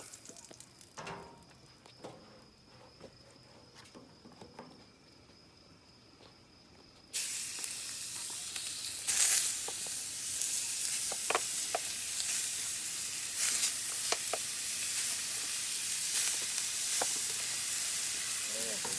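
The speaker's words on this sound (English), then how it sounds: "We're going to start cooking up the hamburger meat." Hamburger meat frying in oil in a pan bursts into a loud, steady, close sizzle partway through, after a quieter stretch of faint handling and background noise, with small pops and crackles scattered through the hiss.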